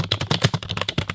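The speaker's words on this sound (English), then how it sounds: "Let's also start typing." Fingers type rapidly on a computer keyboard, a dense run of close, steady key clacks with no pause and no talking.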